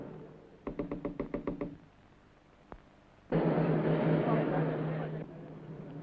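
Knocking on a front door: a quick run of about seven sharp raps close by, followed a moment later by a single knock and then a burst of broadband noise.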